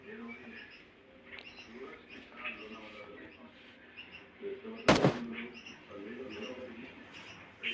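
PUBG Mobile Lite gunfire sounds mostly distant, with one loud, sharp shot or short burst standing out midway through a quiet game soundscape of faint chirps and clicks.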